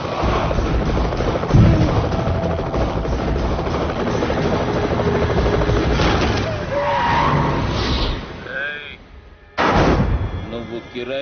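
A helicopter's rotor and engine drone loudly and continuously through a comedy film scene, briefly dipping before surging back, with sharp impact-like bursts mixed in.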